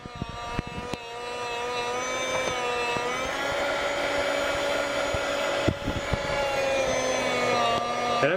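A Chef's Choice 610 electric food slicer runs its motor while slicing cheese, giving a steady close-up whine with harmonic tones that holds throughout, with a few faint knocks and clicks at the start and middle.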